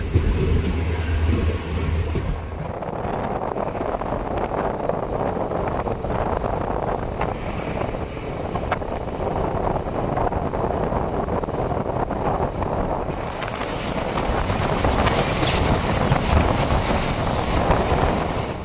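A Bidar–Kalaburagi DEMU train pulling out of Kurkota station rumbles steadily and loudly throughout, with heavy wind buffeting the microphone.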